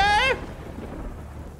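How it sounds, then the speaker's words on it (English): Rain falls steadily with a low thunder rumble in the Roblox game Rainbow Friends, starting right after a short burst of harmonic, tone-like sound, then continuing as an even, moderate wash with no talking. "This rain came out of nowhere."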